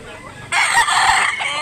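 A rooster with dark plumage crows loudly and close by at a chicken market, one long bright call that begins suddenly after a quiet moment and fades at the end.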